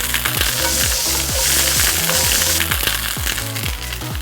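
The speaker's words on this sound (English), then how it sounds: "while that's cooking, we are going to cook up some asparagus" Asparagus sizzles and fries in a hot pan during meal prep, with a steady loud crackle throughout and repeated scraping and stirring sounds in a rhythmic pattern.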